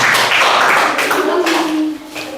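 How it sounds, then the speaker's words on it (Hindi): Children in a classroom applaud a classmate, a dense burst of close, loud clapping that fades toward the end, with voices mixed in. "अनीता कुमारी के लिए एक जोरदार तालीम होना चाहिए"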